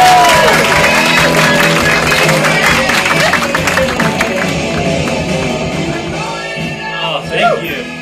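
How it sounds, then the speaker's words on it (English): Studio audience at a stand-up comedy set applauds and cheers loudly and steadily, fading slightly toward the end as a voice begins speaking over it. "Oh, thank you for that warm applause."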